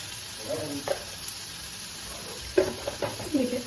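Tomato, ginger and cumin frying in a pan, giving a soft steady sizzle with a few louder bursts of stirring and spatters near the end, no voices.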